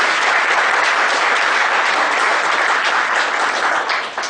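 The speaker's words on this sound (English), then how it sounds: "Big round of applause, ladies and gentlemen." A conference audience of young chartered accountants gives a loud, dense round of applause that stays steady throughout and tapers slightly at the very end.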